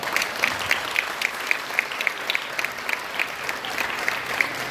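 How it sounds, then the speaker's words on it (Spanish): Applause for the head table at a Christmas food-basket handout in Tierra Blanca, with dense steady clapping throughout and rhythmic sharper claps standing out, a crowd murmur underneath. "fuerte el aplauso para..."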